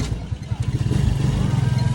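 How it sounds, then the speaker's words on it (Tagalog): A motorcycle engine idles nearby with no key in the ignition, a steady low, pulsing putter growing slightly stronger and more even over two seconds, with no talking. "tingnan nyo, umaandar kahit walang susi ang motor"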